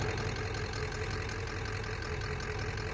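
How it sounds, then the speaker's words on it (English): A 1993 Ford F-250 idles through a straight-pipe exhaust with no muffler or resonator and a 3-inch pipe run out the back, giving a loud, close, steady rumbling burble with a fast, even pulse. "It's straight exhaust. Straight pipe. There's no resonator, no muffler, nothing."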